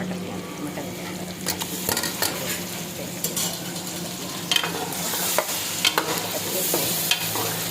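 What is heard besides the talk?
mutton frying and being stirred in a pot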